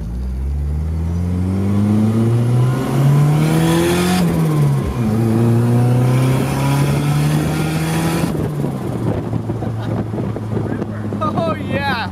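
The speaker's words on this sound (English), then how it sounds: "I'm on fifth gear, like I said, as soon as I need to pass somebody, I'm on the boost, I start making a little bit of boost, boom, off I go." Turbocharged car pulling hard in fifth gear as boost builds, engine drone climbing steadily in pitch, dropping briefly, then rising again, with wind and road noise close and loud throughout.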